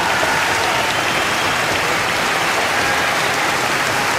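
A large studio audience keeps up loud, steady applause for a ten-year-old singer, a continuous wash of clapping with no pauses and no voices over it.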